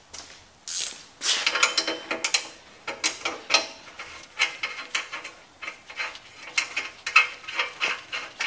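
A 3/4 inch wrench ratchets on the core support of a 1951 Dodge, giving close, crisp clicking bursts in an uneven rhythm with brief pauses between strokes.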